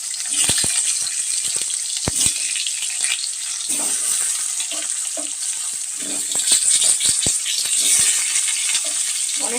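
Potatoes fry in oil in a kadai with a steady, crackling sizzle, broken by occasional clinks and stirring sounds, and no talking.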